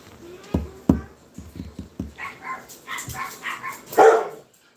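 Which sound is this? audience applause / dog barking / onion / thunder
dog barking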